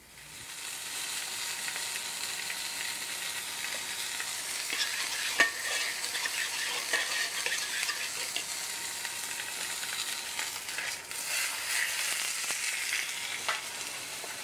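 A suckling veal chop searing in hot oil gives a steady, bright sizzle and crackle that runs unbroken throughout, with occasional small pops and faint clinks of utensils.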